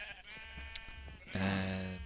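A sheep from a coloured-wool flock in the Minecraft video game bleats once, loud and close, over a low hum of game ambience.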